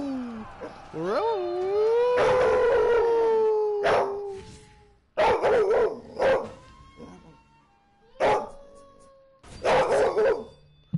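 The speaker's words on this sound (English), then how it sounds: "Zelda hears Rosie barking through that my headset" A pet dog barks and howls, heard through a gaming headset, with long wavering yips and several sharp barks spread across the stretch, fairly close and loud, with no talk over it.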